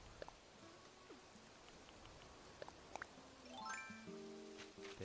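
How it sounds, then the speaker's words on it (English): Soft rain patters in the Animal Crossing New Horizons video game, faint and steady, with quiet game tones and chimes sounding over it. "It's rain."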